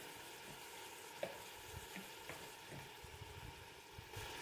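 Chicken sizzling and frying steadily in a pressure cooker, a soft continuous crackle with a few faint clinks, no voices.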